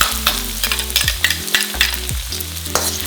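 Garlic and shallot frying in oil in a pan over medium heat for Malaysian mee goreng, a loud steady sizzle close by with rhythmic scraping stirs and no talk.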